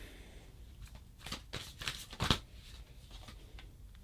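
Advice cards being shuffled, a run of crisp riffling flicks with one louder snap near the middle, close by and heard alone without any talk.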